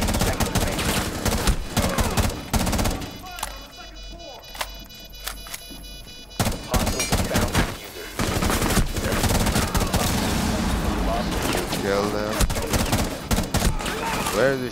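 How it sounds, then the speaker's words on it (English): Gunfire in Rainbow Six Siege during a high-value-target mission: dense bursts of loud, rapid shots separated by a short quieter stretch, with occasional talk mixed in. "Where is he shooting from?"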